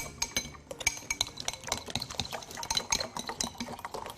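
Vegetable oil being mixed in a mixing bowl for chunky banana bread, a busy run of quick clinking utensil strokes against the bowl, close and continuous.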